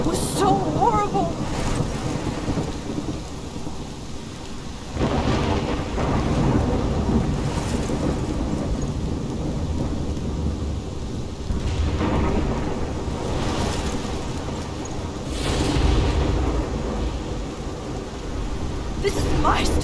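A thunderstorm with rain in the video game Life is Strange: a constant heavy downpour with deep rolling thunder cracks and rumbles recurring every few seconds, loud and close, with voices talking at times.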